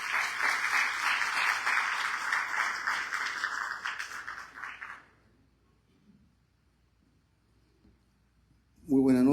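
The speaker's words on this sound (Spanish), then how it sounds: "fuerte aplauso para él" An audience at a medal ceremony honoring a recipient breaks into loud, dense applause that holds for about five seconds, then fades to near silence before a voice begins speaking.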